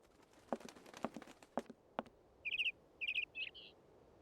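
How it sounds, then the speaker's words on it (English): Bird chirping in the game Syberia: after a few soft clicks, short bright bursts of rapid high chirps arrive in three quick clusters, clear and close against a quiet background. "Hey, little bird."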